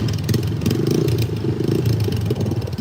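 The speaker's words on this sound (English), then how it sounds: "this guy's just going to sit here and rev his motorcycle so I can hear it." A motorcycle engine rumbles close by outdoors in the Philippines, its idle rising and falling with uneven revs and a rattling clatter.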